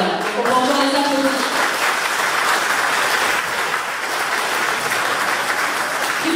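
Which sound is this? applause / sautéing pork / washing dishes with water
applause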